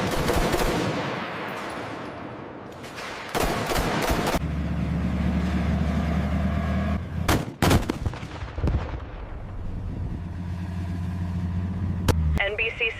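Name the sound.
M1 Abrams tank firing its gun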